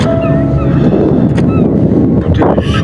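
Strong sea wind at Cancale blows loudly and steadily into the microphone, with a few faint gull cries drifting through the rushing noise.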